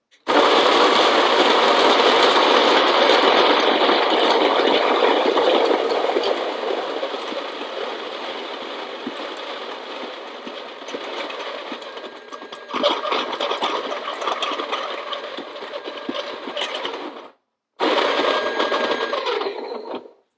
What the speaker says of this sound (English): we'll see how much actually this grinder retains as we grind through here